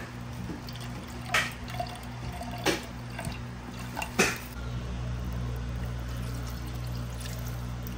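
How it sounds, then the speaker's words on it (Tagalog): Datu Puti soy sauce poured into a chicken inasal marinade, heard as a few short liquid splashes and drips over a steady background hum, with a thin trickle running between them. "maglalagay rin pala tayo dito ng soy sauce at Dato Puti nga yung brand ng gamit natin"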